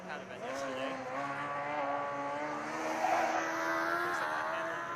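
Freiburg Formula Student race car running an autocross course at Formula Student Germany 2015, its engine whining steadily with rising and falling pitch, heard under continuous commentary.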